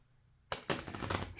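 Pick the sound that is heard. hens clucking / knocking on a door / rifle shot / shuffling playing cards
shuffling playing cards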